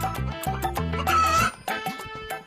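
A chicken clucking loudly and close in rapid, agitated bursts with short squawking calls while it is being chased and caught.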